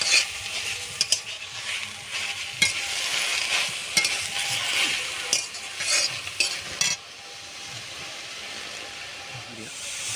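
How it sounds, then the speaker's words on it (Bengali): Thankuni (pennywort) leaves and green chili are stirred and fried in a pan, with a steady sizzle and hiss broken by repeated scraping stirs through the first seven seconds, then a quieter continuous sizzle. "একটু নাড়াচাড়া করে থানকুনির পাতাটা থেকে একটু আউড়ে নেব।"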